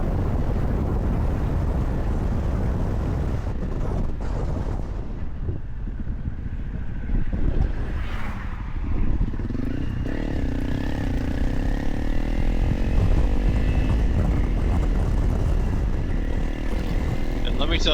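A motorcycle carries a small dog riding along with its owner. A steady engine drone and wind rumble continue without a break, loud and close, with no speech.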